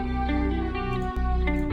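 A smooth sub bass in an FL Studio beat, run through the Waves ADT doubling plugin, sits under a dense, continuous loop of layered tones with a thick, slightly widened shimmer and a couple of short percussive hits.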